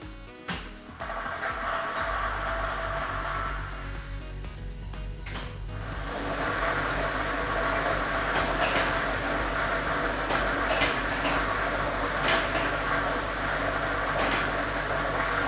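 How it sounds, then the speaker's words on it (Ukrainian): A lottery ball drawing machine switches on with a clunk, then runs with a steady mechanical hum and rattling balls, joined by a sharper whir and clicks midway, close and continuous without talk. "І ми вмикаємо лототрон"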